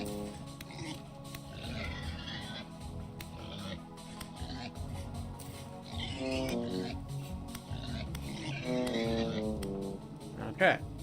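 A sow oinks in the video game Vintage Story, a short grunting burst near the end over steady game music and ambient noise.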